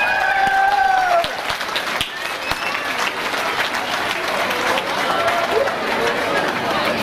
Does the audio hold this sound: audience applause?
yes